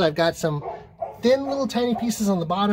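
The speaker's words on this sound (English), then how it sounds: "Sorry about the barking dog." A dog barks and yips in the background while a person talks over it, the barks coming in short bursts.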